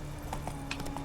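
Horse galloping in the video game Witcher 3: Wild Hunt, Hearts of Stone expansion, with quick, faint hoofbeats thudding at a steady rhythm over a low background hum.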